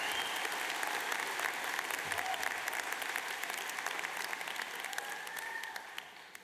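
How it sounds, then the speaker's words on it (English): Graduation ceremony audience giving a long, even round of applause for graduates and staff in a large hall, dense clapping that fades slightly toward the end. "Maybe if we could give them a round of applause along with the staff"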